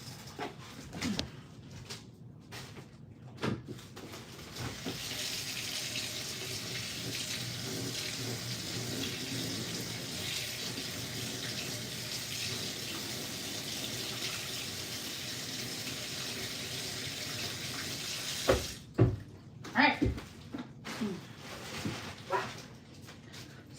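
Water runs steadily from a sink tap for about fifteen seconds as glitter is rinsed off, a constant close hiss, followed by scattered knocks and handling sounds as it shuts off.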